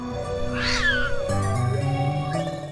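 A cat's drawn-out, wavering meow from the Morgoth's Legacy video game, loud and close, with a second rising cry near the end, set over a steady game music backdrop.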